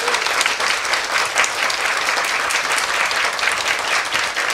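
Loud, dense applause from a lecture audience for the families of the April 16 victims, steady clapping that fills the whole stretch up close with no talk over it.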